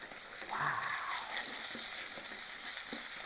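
Minced garlic fries softly in a pan for mapo tofu, a faint crackling sizzle with light stirring scrapes, heard close and alone.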